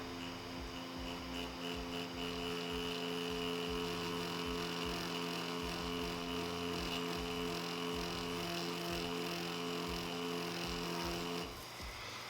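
A Mummy Anubis tattoo machine runs at a lowered voltage of about 3.3 volts, giving a steady, even electric buzz with a faint hum that holds for about twelve seconds before shifting slightly near the end.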